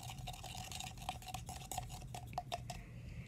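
Glue mixture with activator, baking soda and flour being stirred in a container, with soft scraping and clicking utensil strokes repeating in an uneven rhythm, quiet and close, with no voices.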